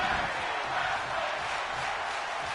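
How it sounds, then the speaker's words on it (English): Arena crowd noise from the WWE 2K22 wrestling video game during a tag team match, a steady, dense roar of cheering that holds at an even level throughout. "Crowd is loving the tag team wrestling."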